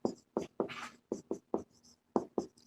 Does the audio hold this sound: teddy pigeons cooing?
no